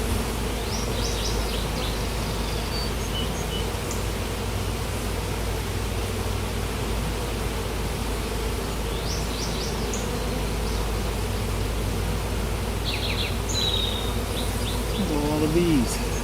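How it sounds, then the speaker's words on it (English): Dense, steady hum of a large mass of honey bees filling the air during a hive inspection, with drones among them on the frames; a continuous close buzzing drone with brief higher whirs of individual bees passing near, and a faint voice underneath. "There's a lot of bees."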